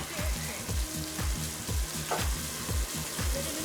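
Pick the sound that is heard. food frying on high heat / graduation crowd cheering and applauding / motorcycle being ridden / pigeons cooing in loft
food frying on high heat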